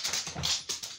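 A dog makes brief, soft whimpering or panting sounds in a quiet space, a few short bursts within a second.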